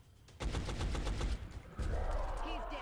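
Soldier firing in the turn-based game XCOM Enemy Unknown: a rapid burst of gunshots opens, then a second volley follows after a brief pause, loud and close with a background hum.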